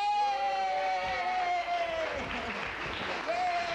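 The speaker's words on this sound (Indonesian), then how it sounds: "Sekarang kita dapatkan tepukan untuk keluarga bahagia ya." Studio audience claps and cheers for a family on a 1987 Hari Raya Aidilfitri television singing show, with a sustained held vocal note and lively applause rising underneath, plus brief whoops.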